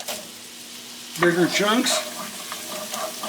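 Apple chunks sizzling in oil in a pan while being stirred, with a voice speaking briefly over the gentle frying hiss.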